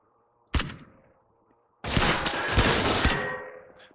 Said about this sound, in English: I got a couple of shots to his upper body there.